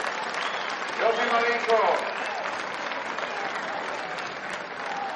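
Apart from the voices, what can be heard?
crowd applauding substituted basketball player Marinkovic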